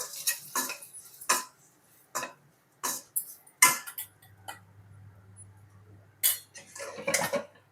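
Chili powder being mixed into fried broad beans in a pan, sharp intermittent scrapes and clinks of a spoon against the metal with quiet gaps between strokes and a faint low hum in the middle.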